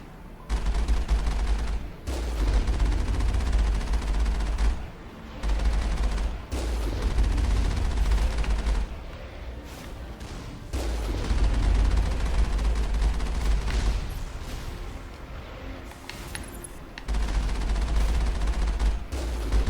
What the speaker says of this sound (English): A couple of turrets up around the corner here.